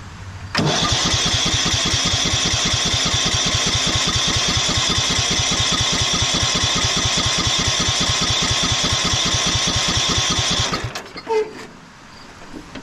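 A 1991 Craftsman LT4000 lawn tractor engine cranks loud and close for about ten seconds in a steady rapid rhythmic chug, with the choke off, then stops abruptly.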